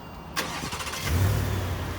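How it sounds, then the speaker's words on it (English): A supercharged 2019 Ford F-150 pickup engine with stock exhaust cranks and catches, then settles into a low, steady rumbling idle nearby. "when I turn the truck on, I'll have the exhaust off. You'll hear it's a nice stock sound."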